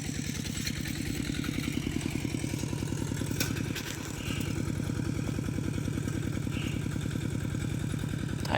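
A tractor engine plowing a rice field in the evening chugs steadily in a fast, even rhythm, close by and moderately loud, with a brief dip near the middle and a faint clatter.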